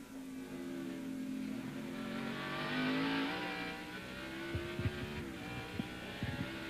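On-board race car engine at Sears Point during 1999 NASCAR practice, a sustained high revving drone that swells and eases as gears change, with brief rattling bumps near the end.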